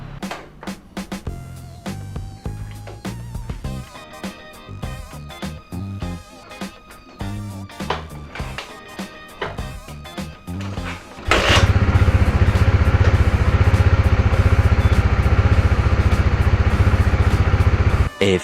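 A Honda Supra GTR 150 motorcycle cranks and clatters in irregular bursts for several seconds, then catches and settles into a loud, steady, close idle with no one talking.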